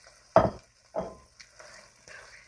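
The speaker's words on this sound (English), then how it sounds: "We're going to stir this up and put the top on it for a minute." Corn being stirred in bacon grease in a pan, with a few distinct scraping stirs and soft knocks spaced about half a second apart and a quiet sizzle between them, close and without speech.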